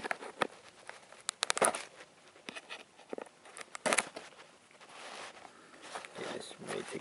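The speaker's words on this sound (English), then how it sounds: "Trying to get the scissors underneath the tape so I can cut it." Toy package opened with scissors cutting under tape: quiet, scattered crinkles, snips and scraping clicks of plastic and cardboard handled up close, with talking over it.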